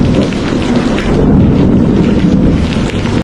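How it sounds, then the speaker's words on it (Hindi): Heavy rain begins with a loud, dense roar and deep rumbling like thunder and gusting wind, continuous and close throughout. "अरे देखो, बारिश शुरू हो गई।"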